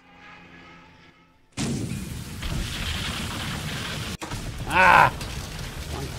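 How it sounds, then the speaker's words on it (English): A bomb hit and ammunition explosion in the Carrier Battles video game, a sudden loud booming burst after a quiet lead-in, sustained rumble with a sharp crack midway and a brief shout. "hit one by bomb, one bomb ammunition explosion"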